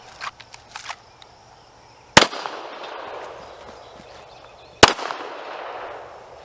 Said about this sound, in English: I knew I was going to take a single shot